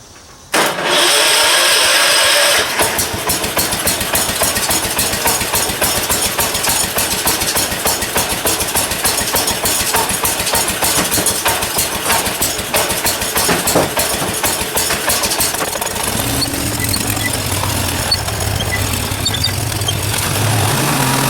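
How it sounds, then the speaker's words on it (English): A Wheel Horse garden tractor engine, started by jumping the solenoid, cranks and catches, then settles into a loud, steady, rapid idle close by, shifting to a lower running tone near the end; no one speaks. "Remember, just needs something metal to jump the solenoid. it should fire up."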